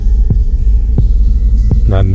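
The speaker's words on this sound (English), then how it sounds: "I could hear my heart pounding in my ears." Slow, heavy heartbeat thuds pounding about every 0.7 seconds over a loud, deep droning hum inside a silent cave, each beat booming and close, with a brief rising tonal swell near the end.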